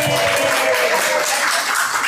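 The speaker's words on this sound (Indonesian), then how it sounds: "Tepuk tangan lu dong" A short burst of audience applause and clapping in a crowd at a religious talk, dense and steady for about two seconds, with no voices over it.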